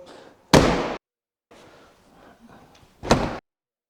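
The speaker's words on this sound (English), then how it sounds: "1950 car and the doors just shut like..." Doors of a 1950 pillarless car shutting, two firm, solid thuds about two and a half seconds apart, close and loud, with quieter handling noise between them.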